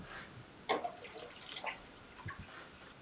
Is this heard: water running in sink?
yes